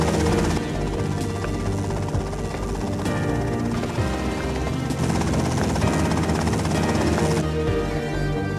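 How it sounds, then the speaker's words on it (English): Helicopter rotor chatter from GTA Vice City, a steady loud drone filling the whole stretch with dense game audio layered over it and no one talking. "Okay, that's them in the chopper."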